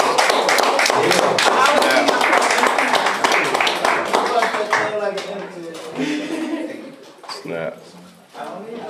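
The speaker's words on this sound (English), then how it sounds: "y'all give her a round of applause" Audience applause: a burst of loud, dense clapping that thins into scattered claps and fades over several seconds, with voices talking underneath.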